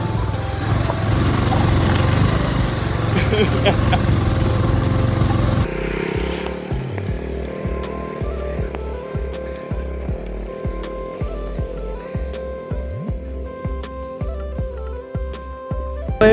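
An off-road motorcycle rides a rough, dangerous dirt track on a trip from Kathmandu to Sisneri. A loud, steady engine drone comes first, then gives way to a lower, pulsing engine note with rhythmic bumps over uneven ground.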